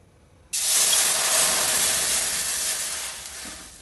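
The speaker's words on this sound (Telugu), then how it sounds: "ఒక గిన్నె నీళ్ళు పోసుకోవాలన్నమాట" Water poured into a hot pan used for frying vermicelli for semiya kesari bursts into a loud, steady sizzle and hiss that starts abruptly and holds for several seconds, slowly easing.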